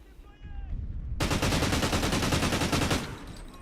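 Rapid automatic gunfire from a multiplayer shooter video game, Warhawk, in a competitive esports match: a dense burst of shots lasting nearly two seconds after a brief lull, with faint talk underneath.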